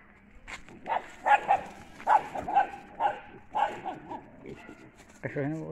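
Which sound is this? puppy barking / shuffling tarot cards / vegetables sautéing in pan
puppy barking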